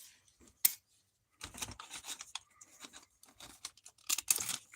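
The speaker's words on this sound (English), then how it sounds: "let me cut one open with a knife" A knife cuts open a plastic nut in short, sharp scraping and snipping bursts separated by silences, close and fairly quiet.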